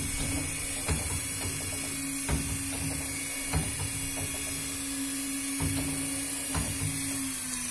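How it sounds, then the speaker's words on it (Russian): A Kaban DE 4050 copy milling machine runs its upper cutter with a steady whine and hum, broken by faint, irregular clicks and ticks, in a quiet workshop with no voices. "Верхняя фреза."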